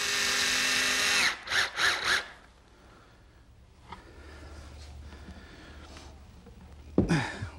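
A power drill drives screws into a plywood desk base, with a loud burst of whirring followed by several short pulsing spurts, then quieter handling noise and a final sharp whir near the end.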